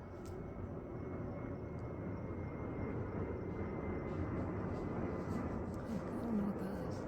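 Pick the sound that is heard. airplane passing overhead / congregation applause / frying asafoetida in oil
airplane passing overhead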